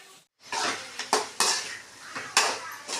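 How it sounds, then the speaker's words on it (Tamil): Metal spatula clanging and scraping against a kadai as spicy chicken thokku is transferred into a bowl, several sharp bright scrapes and knocks at irregular intervals, close and loud, no talking. "நம்ம ஸ்டவ் ஆஃப் பண்ணிவிட்டு ஒரு பவுலுக்கு மாற்றிக்கலாம்"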